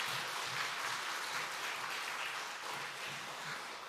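A church congregation at a Sunday afternoon service claps together in a steady, moderately distant wash of applause that holds evenly throughout, with no voices rising above it.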